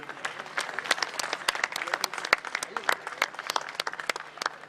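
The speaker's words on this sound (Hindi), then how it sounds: "इस स्पंदन के लिए एक तालियों का गुंजन" An audience at a government inter college alumni meeting applauds, dense clapping with sharp individual claps standing out, fairly loud and continuous throughout.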